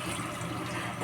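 Water pours into a cooking pot of boiling pork with carrots and potatoes, a steady close splashing gush that lasts about a second with no talk.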